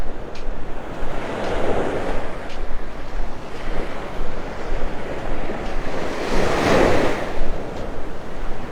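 Ocean surf on a North Naples, Florida beach, waves washing in with two swelling breaks under steady wind buffeting the microphone, continuous and fairly loud with no voices.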